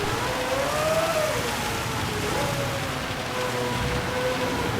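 Steady rain hiss in the racing game Gran Turismo 7 at Spa during a downpour, a continuous wash of noise with a race car engine tone wavering underneath.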